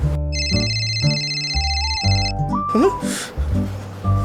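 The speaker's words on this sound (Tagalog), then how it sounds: "Oh, hindi ba telepono mo yan?" A mobile phone ringtone plays a bright electronic melody of repeated beeping tones and rising notes, loud and close, with no talking over it.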